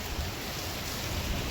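Rain beginning to fall during a strong windstorm on a highway near Viramgam, a dense, even rushing hiss of rain and wind with no pauses.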